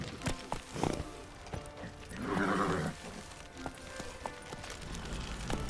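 Geralt's horse Roach in The Witcher 3: Wild Hunt – Blood and Wine gallops with quick clip-clopping hoofbeats and lets out a short neigh midway. Game ambience runs underneath, and there is no speech.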